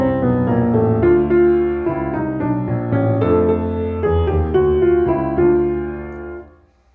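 Orchestral leitmotif from Marschner's opera Der Vampyr, a chromatic, sustained passage of layered strings and winds that swells and shifts harmony for about six seconds, then fades into silence. No voices.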